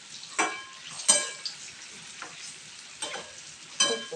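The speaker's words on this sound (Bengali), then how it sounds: "খুন্তি দিয়ে আমি উল্টিয়ে দিচ্ছি" Palm fritters (taler bora) fry quietly in oil, with several sharp spatula scrapes and clinks as they are flipped at irregular intervals.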